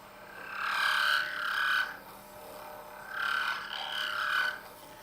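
A lathe turning a custom pen blank gives off a rasping, rubbing vibration noise in two long swells, each lasting about a second and a half, with a quieter gap between them.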